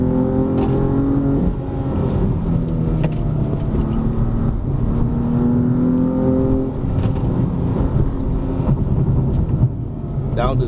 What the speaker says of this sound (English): I'm going around this bend in third gear and powering it